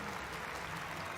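A ceremony audience at a peace prize medal presentation gives a continuous round of applause, a soft, even patter of many hands heard from a distance at low volume.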